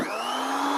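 An electric beater whips cream in a bowl at its lowest speed while making a bowl chocolate cake, giving a steady, close motor whine with a bright high hum that runs evenly the whole time, with no talk.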